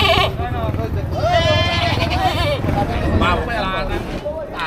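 A goat bleats several times up close at a livestock market, with people talking alongside the calls.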